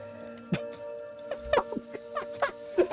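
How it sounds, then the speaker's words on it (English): A chicken in the video game Itorah clucks after being struck, several short clucks in uneven bursts over a steady tonal music bed. "They put an achievement in here for whacking the chicken."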